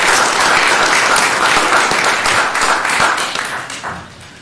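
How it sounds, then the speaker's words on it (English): Audience at a township council reorganization meeting gives a round of applause, dense close clapping that holds steady, then thins and fades toward the end. "Let's give them a round of applause."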